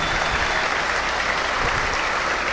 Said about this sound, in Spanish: Fuerte ese aplauso de bienvenida a nuestra nueva mandataria.